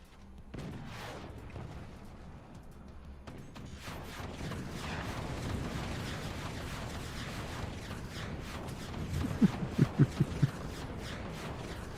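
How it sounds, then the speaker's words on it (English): In the strategy game Forts, a bank of 20mm cannons fires continuously as a rumbling run of low thuds, ending in a cluster of sharper, louder bursts. "it is satisfying to have a bunch of 20mm just constantly firing at things"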